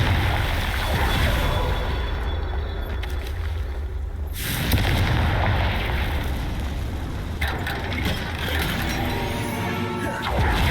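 Confringo explosion spell cast in Hogwarts Legacy, a burst of fiery crackle and rumble that cuts off sharply, then a quieter stretch before more crackling debris noise, with some voice in the background.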